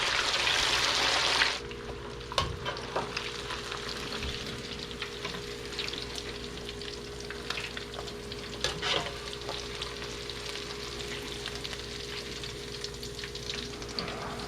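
Chicken pieces frying in a wok give a loud, bright sizzle in the first second and a half, then a quieter steady bubbling fry with occasional stirring clatter and no talking.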